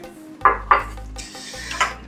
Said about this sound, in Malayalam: പുളിശ്ശേരി ഒഴിക്കുന്നത് കേട്ടോ